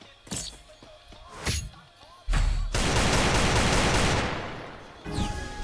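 Gunfire in the Free Fire mobile battle game, with a few sharp shots early on followed by a long dense burst of automatic fire that fades out, loud and close, mixed with other game effects.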